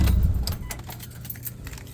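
An Evo 9 is shut off with the key during a 30k service, with a brief low engine rumble that stops early, then close jangling of keys on the ring.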